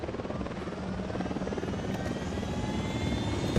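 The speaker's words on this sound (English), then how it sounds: "Unidad chopper, stay low." A helicopter in Tom Clancy's Ghost Recon Wildlands flying low: a loud, continuous rotor thump with a rising engine whine, steady and close throughout.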